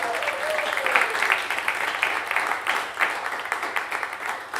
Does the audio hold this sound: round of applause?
yes